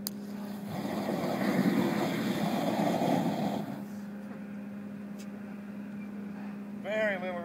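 Roughly a pound of black powder deflagrating outdoors, a loud rushing roar that swells for about three seconds and then fades into a lingering low hum.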